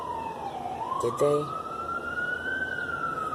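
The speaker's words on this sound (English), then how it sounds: "Oh, that's a fire engine." A fire engine siren wails through a residential neighborhood, a steady rising and falling tone at moderate distance, with a short spoken question briefly over it.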